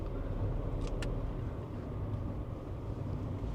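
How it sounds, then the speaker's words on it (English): A big lorry approaches along a quiet country road near a campsite, its low engine rumble steady and fairly close throughout, with a brief higher whine partway through. "Oh, there's a big lorry coming."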